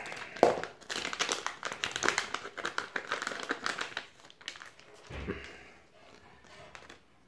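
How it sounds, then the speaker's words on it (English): Scissors snip and crinkle through the plastic packaging of a small Flycolor X-Cross 36A brushless ESC, close irregular cuts and rustling that fade into quieter handling. "I have to use the scissors to open it."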